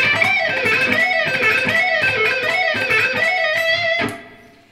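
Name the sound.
second neoclassical shred guitar lick with distortion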